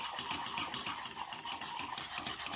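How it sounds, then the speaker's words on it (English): A spoon stirs a thickening custard mixture in a pan, making a steady close-up scraping and swishing sound in a continuous rhythm with no talking. "See, you have to continuously stir it till it becomes a thick consistency."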